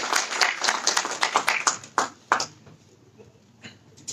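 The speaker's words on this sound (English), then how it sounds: "Can you give a big round of applause for this beautiful, gorgeous?" Scattered clapping at a sports club kit launch gala dinner, a few people clapping irregularly for about two seconds before it thins out and fades to quiet.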